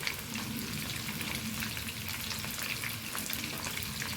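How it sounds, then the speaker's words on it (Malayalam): Steady, dense sizzling of mango pieces frying in hot oil for pickle, close and continuous throughout with no pauses. "ഇതേമാതിരിയൊക്കെ വറുത്തെടുക്കട്ടെ ഇനി ഇത് മാങ്ങയൊക്കെ വറുത്ത് കോരിക്കുന്നത്"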